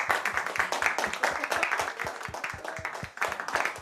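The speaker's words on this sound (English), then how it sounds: "Give Alex a round of applause" An audience applauds for Alex in a rented apartment, a dense steady round of clapping from a small crowd that carries on throughout, fairly close, easing slightly near the end.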